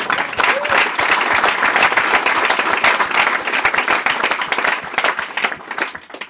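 An audience at a live show applauding a performer, brisk crowded clapping with distinct sharp claps, holding steady and then tapering off at the end.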